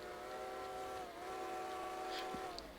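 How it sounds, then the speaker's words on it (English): A steady train-like whistle in a video game, a sustained harmonic tone held for about three seconds, moderately loud over a low background. "I'm liking that whistle."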